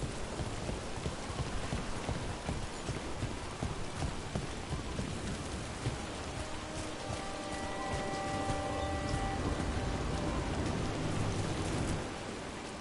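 Steady heavy rain in the video game Dragon Age: The Veilguard pours throughout in a dense, even hiss, with faint tonal hums and distant rumbles underneath; no one speaks.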